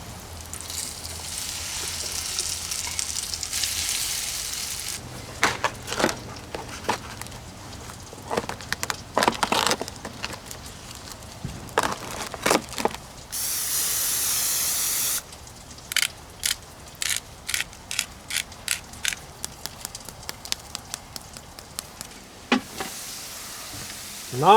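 Potatoes sizzle and spit in a hot pan at a campsite, a steady frying hiss broken by sharp spatters and the scrape and clatter of stirring, close and fairly loud, with no one talking.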